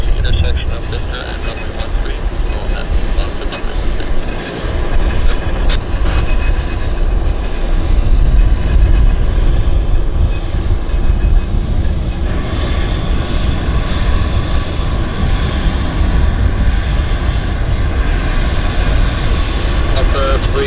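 A Lynx Air airliner at Vancouver Airport gives off a loud, steady jet engine roar that holds for the whole stretch, with radio chatter and talk mixed in.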